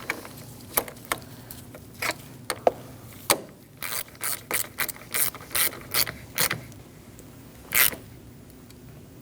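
A ratchet wrench snugs down the negative battery terminal on a 2002-2006 Toyota Camry 2.4L four-cylinder, with scattered clicks early on and then a quick run of short, crisp ratcheting bursts, close and fairly loud, with no talking.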